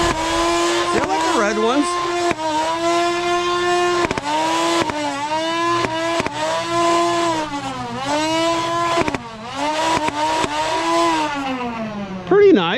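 A Nerf Rival Perses blaster firing headshot rounds, its flywheel motor whining loudly and rising and falling in pitch while sharp shot clicks repeat. A voice speaks briefly.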